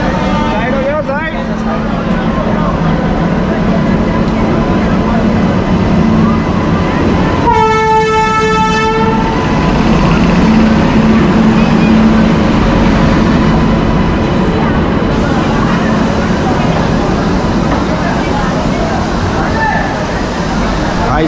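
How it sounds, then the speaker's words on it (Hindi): West Bengal Sampark Kranti Express rumbling loudly into a crowded platform, with a steady roar of wheels and carriages and a short horn blast partway through, while people shout and talk over it. "वेस्ट बंगाल संपर्क क्रांति एक्सप्रेस प्लेटफॉर्म नंबर 2 पर आ चुकी है"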